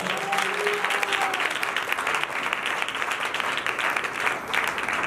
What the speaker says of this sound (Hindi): जोरदार ताली जरा